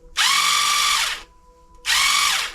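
A cordless drill motor whirs up loudly for about a second, stops, then spins up again, close and alone.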